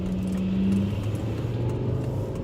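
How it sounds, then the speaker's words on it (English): Large truck going by on a road, a close, steady engine rumble with a brief low drone at the start, heard from inside a vehicle with no talking. "There's a big ass truck coming and I cannot see."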